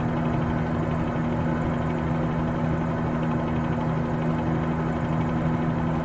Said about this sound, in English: It is very loud in this helicopter.